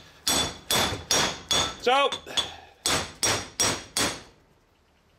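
Hammer striking lug studs into the front wheel hub of a 1980 Ford F350 service truck, about ten sharp ringing metallic blows in a steady rhythm close up, with one brief spoken word.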